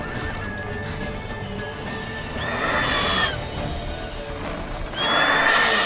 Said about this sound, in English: Spooked horses.